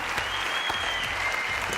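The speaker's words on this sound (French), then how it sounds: "Vous pouvez applaudir Jay Alexander" Dense applause from a sizeable television studio audience, steady and loud throughout with no break.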